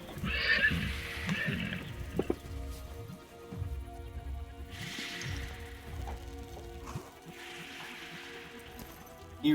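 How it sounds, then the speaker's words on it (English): A draft horse whinnies repeatedly in a wooded setting, with several loud, drawn-out neighs separated by quieter breathing and a few low thuds. "Alright, draft horse."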